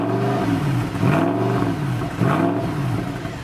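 A Mercedes CLK63 AMG Black Series V8 revs loudly up close, with two rising surges of throttle over a rough, burbling idle.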